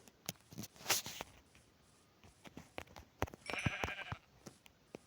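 Sheep bleat in a hardcore survival video game. Several short bleats sound at moderate distance over soft footsteps and pattering, with no talk.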